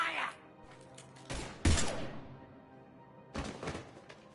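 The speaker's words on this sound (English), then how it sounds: "Now open fire!" A firefight in Mass Effect 3 Legendary Edition: loud, sharp volleys of gunfire burst out in a few separate clusters, with lower thuds between them.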